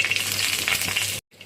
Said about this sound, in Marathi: हलवा मच्छी फ्राय करत आहोत.